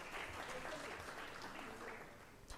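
Applause from the audience at an African Council for Distance Education 20th anniversary celebration, a steady wash of many hands clapping at moderate volume that holds through the whole stretch and tapers slightly at the end.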